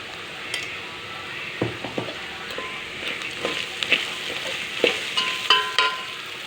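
Onions fry in oil with salt, giving a soft, steady sizzle close by, punctuated by light scraping and tapping as a spoon stirs the pan.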